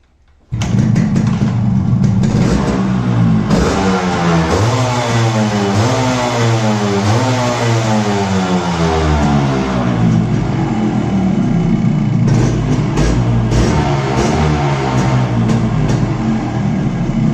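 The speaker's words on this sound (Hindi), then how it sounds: "एक बार उनको अच्छी तरीके से और रेस देंगे, खुल जाएंगे।" A Yamaha RX-100 two-stroke motorcycle engine, started after two years idle with blocked jets, fires up abruptly and revs loudly again and again, the pitch rising and falling in repeated surges close by for the whole stretch.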